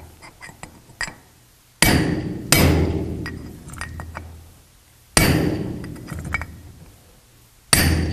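Sharp metallic hammer blows on a brass drift driving a part on a Dana 44 axle, struck singly and in pairs with pauses between, loud and close with ringing decay and small clinks between strikes.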